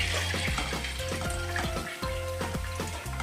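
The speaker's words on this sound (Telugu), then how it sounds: "నానబెట్టుకున్న పెసరపప్పును జాలీలోకి పడబోసుకోవాలి" A steady wash of water running and splashing as soaked moong dal is poured into a strainer, with faint rhythmic knocks underneath, close by.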